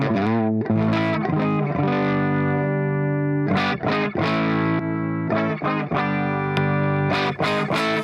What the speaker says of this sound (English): Let's get back to the humbucker with the same sound.